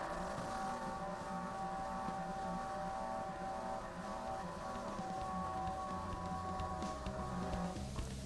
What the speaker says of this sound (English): you can kind of hear that motor noise as it pivots the deck up